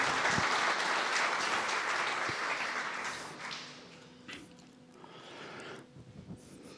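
A church congregation at a family restoration conference bursts into loud sustained applause, which fades after a few seconds into scattered claps and room murmur.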